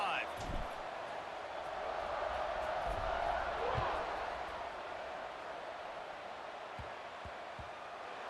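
Broad stadium crowd roar in the College Football 26 video game, a steady swell that rises and falls around kickoff, with a commentator talking over it and a few thuds.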